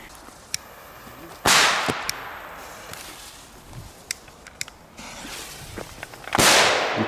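Crackle-ball firecrackers go off outdoors, with two loud bursts of dense crackling and scattered sharp pops between them, some close and some farther off.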